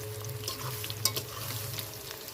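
Sour raw mango pickle is stirred and sautéed in a pan, with a close sizzle of frying under scraping stirring strokes and a sharp clink near the middle.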